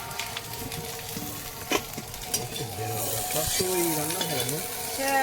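Fish frying in hot oil in a pan gives a steady, close crackling sizzle throughout, with a few sharper pops and faint background tones.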